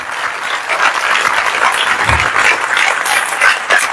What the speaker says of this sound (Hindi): आइए हम अपने प्रभु के लिए अच्छी ताली बजाएंगे